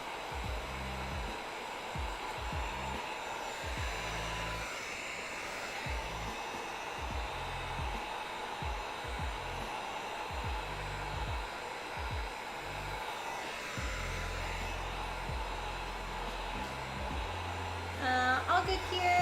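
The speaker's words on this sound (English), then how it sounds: "I trace everything onto my foam and then heat treat it and then cut it out" A heat gun blows hot air over craft foam being heat-treated for a Keyblade prop, a constant close whooshing drone that holds steady throughout, with faint murmurs underneath.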